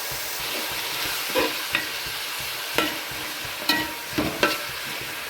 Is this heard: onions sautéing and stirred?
yes